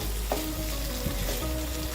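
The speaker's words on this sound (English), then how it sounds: "This fragrant paste has been frying for 2 minutes." Steady crackling sizzle of chilli paste frying in a pan for Malaysian Nyonya roasted fish, constant and close, with a few faint clinks of stirring.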